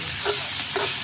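Spice masala hitting a hot pan for Rajasthani radish sabzi cooked on a traditional chulha, a loud continuous sizzle with short stirring scrapes, no voices.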